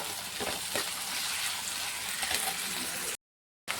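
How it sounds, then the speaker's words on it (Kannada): Tomatoes fry in a pan with turmeric and salt for a cucumber palya, giving a soft continuous sizzle with faint stirring, interrupted by a brief silent gap near the end. "ಈ ಟಮಾಟಿ ಫುಲ್ಲು ಕೆಂಪು ಆಗತ್ತನ ಫ್ರೈ ಮಾಡೋಣ"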